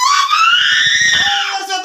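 A woman gives a loud, sustained high-pitched scream during an exorcism, a single piercing cry lasting nearly two seconds with no speech over it.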